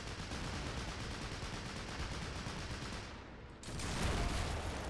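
Sustained heavy gunfire from a .50 caliber machine gun in a realism-modded war video game, a dense continuous rattle that dips briefly before swelling louder.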